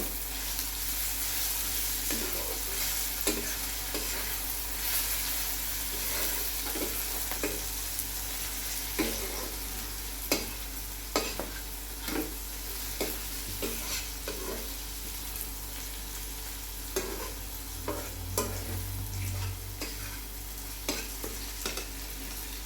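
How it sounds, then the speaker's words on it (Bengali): Spices and masala are sautéed and stirred in a pan for Bengali egg devil, giving a steady sizzle throughout with repeated scraping strokes of the spoon close by. "একটু কষে নেব।"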